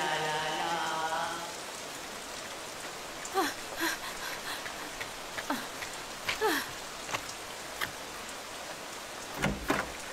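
Cartoon rain falling steadily as a soft hiss on a surface, with scattered louder drips and splashes, after a brief sung melody at the start.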